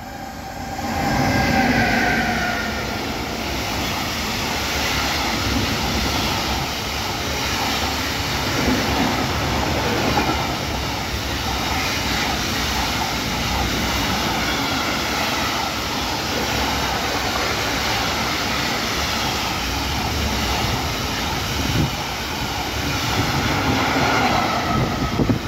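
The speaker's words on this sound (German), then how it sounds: "jetzt für mich Güterzug Durchfahrt in Langenselbold. Das ist BR 152er" Freight train hauled by a class 152 locomotive passing through Langenselbold station, a loud, steady rumble and rail roar filling the whole stretch with faint clatter, no talking.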